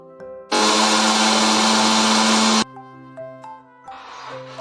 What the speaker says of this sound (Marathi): मिक्सरमध्ये बारीक वाटून घ्यायचे आहे